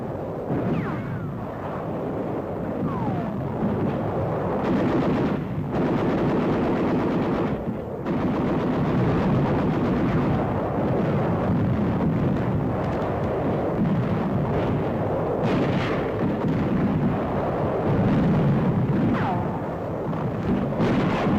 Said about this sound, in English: Help in place the howitzers for battery fire.